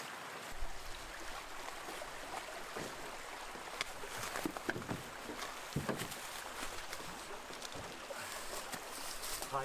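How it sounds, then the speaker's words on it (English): Water rushing and gurgling through a narrow but deep creek crossing a trail in early spring, a steady broadband flow heard up close with scattered splashes and knocks, continuous for the whole stretch without talk. "There was a narrow but rather deep creek across the trail"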